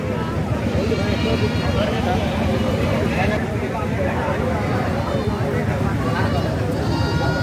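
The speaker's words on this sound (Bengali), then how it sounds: "মাত্র হাট লাগছে এখানে অনেক ছাগল আমদানি" Goats bleat repeatedly amid a noisy crowd at a cattle and goat market in Pabna, Bangladesh, their cries rising over constant chatter and bustle of many people nearby.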